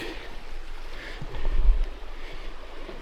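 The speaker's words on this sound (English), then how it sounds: "There's the creek." Continuous rushing of a flowing creek with steady broadband hiss and wind buffeting the microphone, swelling briefly in the middle, no voices.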